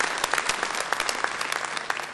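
Audience applause for space travelers at a 2008 IAC plenary session, a crowd clapping steadily with sharp individual claps standing out, moderately loud and close.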